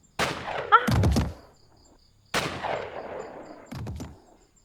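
Two sharp gunshot effects in a dramatized horror scene, each a loud sudden bang trailing into a decaying echo, roughly two seconds apart, with no speech over them.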